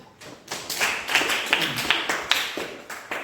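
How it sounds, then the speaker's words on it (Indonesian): Students in a primary school classroom clap their hands together in a rhythmic series of sharp, close claps that build after a short pause. "Oke, tepuk tangan."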